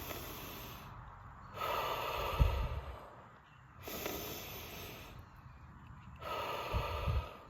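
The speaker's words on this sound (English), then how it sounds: "So you want to learn to breathe from your diaphragm." Demonstration of diaphragmatic breathing, with slow rhythmic inhale and exhale cycles repeating about every two and a half seconds, close and fairly loud, some breaths ending in a snort-like puff, and no talking.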